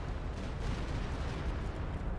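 Artillery shelling in a strategy video game, a dense continuous roar of overlapping blasts and rumbling impacts, loud and steady throughout with no speech.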